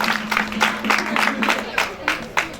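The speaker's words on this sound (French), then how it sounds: "Je vous demande de l'acclamer comme il se doit" A crowd at a Senegalese high school event claps in a steady, rippling patter of overlapping hand claps, fairly close and sustained.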